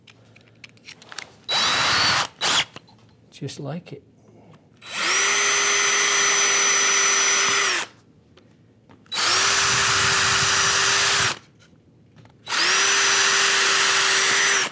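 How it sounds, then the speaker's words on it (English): A power drill boring a hole in wood whines in several bursts, three long steady runs of a few seconds each separated by pauses, after a brief start and a few words spoken. "I still prefer to drill a hole"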